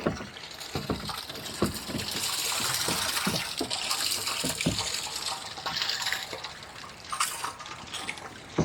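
Water pours into a pond's overflow outlet with a steady, close gush and trickle. Occasional soft knocks and splashes sound over the constant flow.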